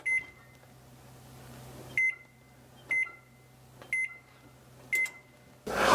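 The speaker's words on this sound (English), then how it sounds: "The first thing we need to do is preheat the oven." Oven control panel beeping as it is set to preheat to 350 degrees, five short electronic beeps spaced about a second apart, close and clear over a faint steady hum.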